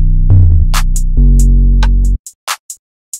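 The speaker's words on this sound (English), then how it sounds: "I just used a bass drop effect that sounds like this, and together with the 808." A bass drop effect layered with a heavy 808, a thick low rumble that steps down and sustains for about two seconds, with crisp percussion ticks scattered across and continuing briefly after it stops.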